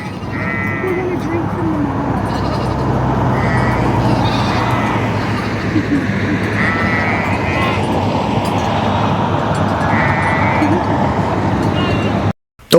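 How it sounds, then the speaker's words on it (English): Repeated sheep bleats ring out over a steady rumble of passing traffic and some chatter, several calls spaced across the clip at moderate distance, beside a road in Norway. "we even spotted some sheep just hanging out near the side of the road"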